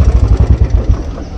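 An LML Graptor motorcycle engine runs close by with a steady, loud, rhythmic low chugging that pulses evenly and eases off slightly near the end.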